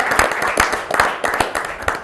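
Clapping for Stefano, a judo champion honored at a regional martial arts gathering, comes as a short run of crisp, fairly close handclaps from a small audience, steady and unaccompanied.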